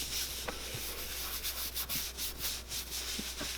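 A cloth soaked in acetone rubs over a Japanese shoe to strip off manufacturing grease, making quiet, repeated soft swishing strokes close by.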